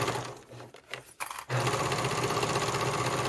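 A home sewing machine runs a seam on a satchel bag project, starting with brief stop-start bursts, then settling into a steady continuous whir from about halfway on; close and moderately loud, with no talking.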